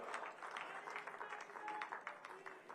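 A crowd at a state-level ceremony in Panchkula claps for Narendra Modi, soft and somewhat distant applause with a voice heard faintly over it.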